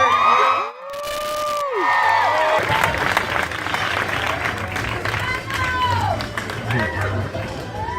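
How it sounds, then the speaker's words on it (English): A loud audience at the New York TV Festival cheers and claps for Shemar Moore over sustained applause, with whoops and shouts rising and falling throughout and a voice briefly cutting in near the start. "Make some noise for Star Shemar Moore."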